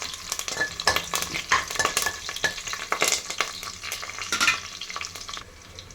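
Curry leaves sizzle and crackle in hot oil for a field bean curry, with a loud, bright frying hiss and stirring scrapes that fade out near the end.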